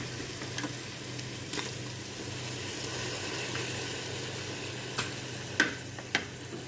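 Tuna pieces frying in a pan for biryani give a steady close sizzle throughout, with a few sharp clicks and light scrapes near the end.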